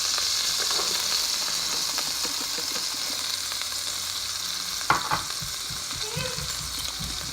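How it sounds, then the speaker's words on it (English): Onions frying in a pan with browned ground beef and its juices for baked spaghetti, a steady close sizzle with occasional stirring scrapes and one sharp knock of a utensil against the pan. "And we will be adding onions."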